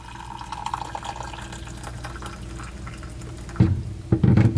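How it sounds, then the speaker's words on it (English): Hot water poured into a Bath & Body Works candle container to melt leftover wax, a steady close filling trickle that ends in two louder splashing bursts near the end. "Or you could add some hot water"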